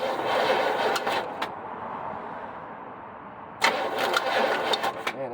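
A 1976 GMC Sprint engine cranks over loudly with a dense mechanical churn, pauses in a quieter stretch, then cranks again in sharp bursts without catching.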